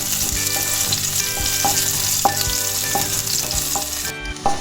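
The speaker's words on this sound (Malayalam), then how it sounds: "ഇനി ഇതിലേക്ക് നമുക്ക് എടുത്തു വച്ചിരിക്കുന്ന പച്ചമുളക് ഇട്ട് കൊടുക്കാം. നന്നായി ഒന്ന് വഴറ്റി കൊടുക്കുക." Green chillies sautéing in hot oil for restaurant-style chicken chilli, a loud, close, continuous sizzle with repeated rhythmic spatula strokes scraping the pan and no speech.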